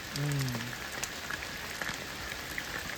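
Steady rain falls outdoors on a quiet, deserted day, a dense even hiss with scattered drops, briefly joined by a short voice at the start.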